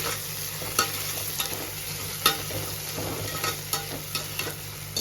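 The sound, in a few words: frying crushed ginger and garlic in a pan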